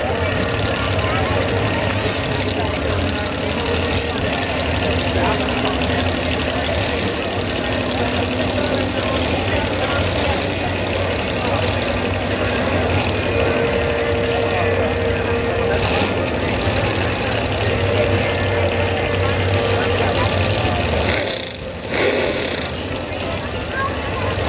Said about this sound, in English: Landon Click, 557 cubic inches of Ford horsepower.